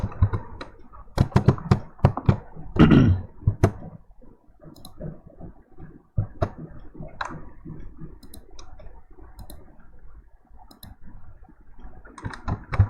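Mouse clicks in Microsoft Word, selecting a menu option, come as a scattered series of sharp, close clicks with quiet pauses between them, alone without talk.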